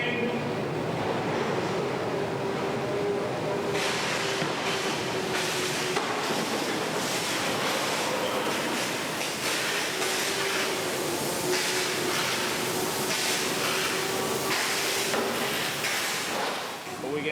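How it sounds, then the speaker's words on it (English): A subway train rushes past on a film set, a loud continuous rumble and roar with bursts of rushing wind noise that hold steady throughout, with faint voices underneath. "Here comes the train."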